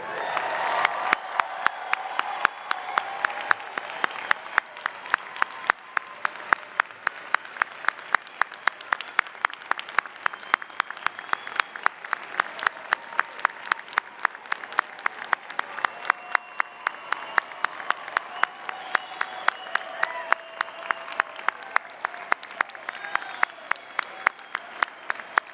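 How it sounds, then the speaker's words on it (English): Sustained, rousing applause from a large audience at a university MBA commencement ceremony, dense steady clapping with occasional whoops continuing throughout, no talking over it. "please join me in a rousing round of applause."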